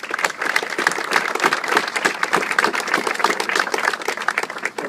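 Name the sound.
audience applause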